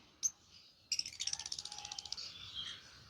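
Farm-bred local pet birds give quiet, high chirps: one short note, then a quick run of rapid tweets and rattling calls, faint and close, with a low murmur of voices underneath.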